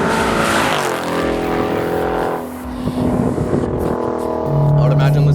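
A Dodge Challenger R/T cruising in sixth gear at about 70 mph and 1600 RPM, a low steady engine drone and road hum from inside the cabin, with someone talking over it.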